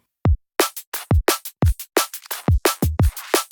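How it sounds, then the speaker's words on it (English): A programmed rock drum kit plays alone without its extra drum loop, punchy kicks and bright snare and cymbal hits landing in a tight, steady groove of about a dozen close, loud strikes. "So the drums without the addictive drum loop just sounds like this."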